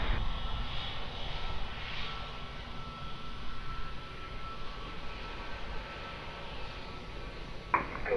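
A Delta airliner taking off from runway 02 at Lisbon Airport gives a faint, distant, steady engine rumble with a brief click near the end.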